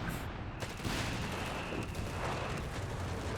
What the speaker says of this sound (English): AT guns attacking ground through the hedgerow there